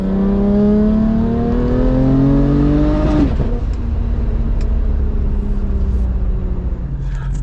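A turbocharged car, running high boost with its wastegate adjusted, accelerates hard as a loud engine note rises steadily, drops sharply at a gear change, and then climbs again, heard close from inside the vehicle.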